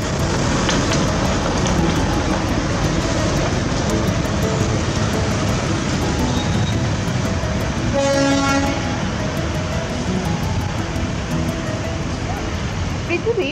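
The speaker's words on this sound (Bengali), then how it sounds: "তখনই আবার ট্রেনের শব্দ। ঘুম স্টেশনের দিক থেকে আরো একটা ট্রেন আসছে।" Darjeeling toy train approaching from Ghum station on the mountain railway, a steady rumble of running carriages with a brief whistle toot around the middle, heard amid continuous outdoor background noise.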